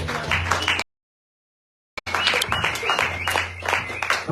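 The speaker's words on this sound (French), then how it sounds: "Acclamons la parole de Dieu." A church congregation at a revival service applauding, a dense, close burst of clapping that cuts out to near silence for about a second and then resumes at full strength.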